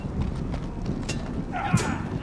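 Horse hooves clip-clop at a walk in a Game of Thrones video game, soft and fairly regular under faint background ambience, with a brief brighter clatter near the end.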